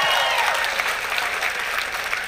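Keynote speech audience applauding, a dense steady patter of clapping that carries on at even strength for a couple of seconds with no voices over it.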